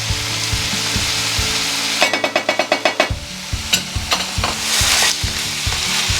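Onions frying in a pan, a continuous sizzle broken by a burst of quick scraping stirs and a few clacks of a utensil against the pan, close up.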